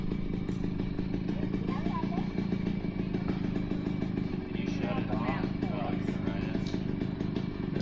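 A small Chinese dual-sport motorcycle with a weed-eater-type engine runs steadily, a buzzing mid-pitched drone that stays constant throughout, with some clatter and faint voices mixed in.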